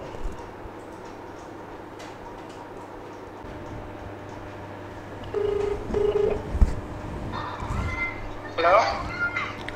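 A telephone is dialed to place a call, with a few short keypad tones in the middle, then a brief higher warbling ring-like burst near the end over a steady low background hum.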